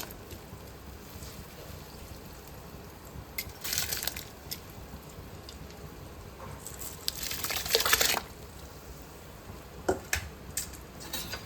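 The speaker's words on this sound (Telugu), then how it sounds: "దీనిలో ఒక అరగంట పాటు నానబెట్టి ఉంచుకున్నాం బాస్మతి రైస్ వేసుకుందాం" Soaked basmati rice is tipped into a pot of salted water while cooking chicken matka dum biryani, with two short, close, rustling, splashy pours separated by quieter stretches and no speech.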